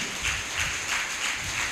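A church congregation claps hands together in a steady rhythmic beat, a dense, even wash of many hands.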